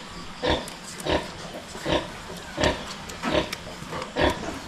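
Newborn piglets grunt close by in short, evenly spaced bursts, about six soft oinks over a few seconds against a quiet farm background.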